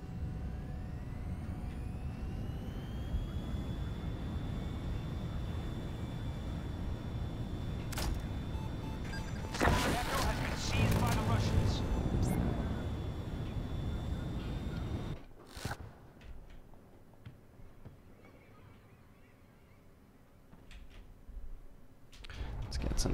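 A video game aircraft flies with a steady engine roar and a rising whine, with a person talking over it; a loud burst comes midway, then the engine noise drops sharply and grows quieter.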